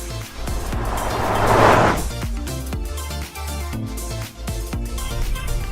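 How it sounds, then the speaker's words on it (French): A Land Rover Discovery Sport cruises along a road, a continuous low engine and tyre rumble with a swelling rush of wind or passing traffic near the start, then steady road noise. "Au volant de ce nouveau Disco Sport, on découvre une conduite sur route sereine et agréable"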